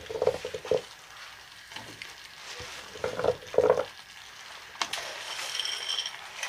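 Garden vegetables, squash among them, are tipped into a hot pan for a vegetarian korma, bringing soft frying sizzle with scattered clinks and scraping stirs against the pan, fairly quiet and intermittent.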